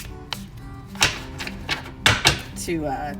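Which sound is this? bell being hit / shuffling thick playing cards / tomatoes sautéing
shuffling thick playing cards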